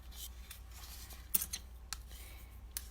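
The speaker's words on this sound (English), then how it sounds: "Now I'm going to fold it diagonally." Paper creased diagonally for an origami Christmas tree: soft, close crinkles and a few sharp brief swishes and snaps of the sheet over quiet background.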